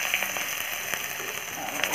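Garlic frying in fish oil in a pan for an Assamese sour fish curry gives a steady, close sizzle with faint crackles and a few soft ticks throughout the short stretch.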